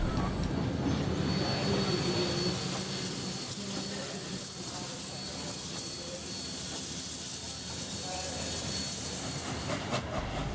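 Steam locomotives 3526 and 3265 run toward Newcastle during the Hunter Valley Steam Fest, giving a steady, loud rumble and hiss of rolling train noise throughout with no clear break.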